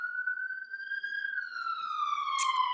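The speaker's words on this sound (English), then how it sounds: "Please excuse the ambulance in the background." An ambulance siren wails steadily in the background, its tone gliding slowly up and then down over a few seconds, distant but clear, with no talking over it.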